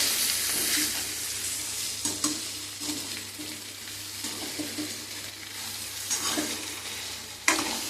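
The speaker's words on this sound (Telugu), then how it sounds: "ఉడికించిన బంగాళదుంప ముక్కలండి. ఒకసారి కలిపేసుకుందాం." Boiled potato pieces are stirred into a frying potato and brinjal curry, a steady sizzle with scraping spoon strokes at irregular intervals, close and fairly loud, with no talking.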